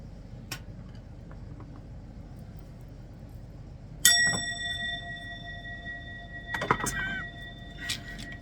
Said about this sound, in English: a single chime ringing in the dark